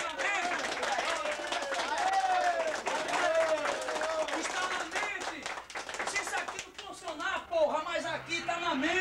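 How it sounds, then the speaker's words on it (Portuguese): Audience applause breaks out at a bodybuilding club event in Caruaru, steady clapping from a crowd that runs under a man's loud amplified speech throughout. "Uma salva de palmas."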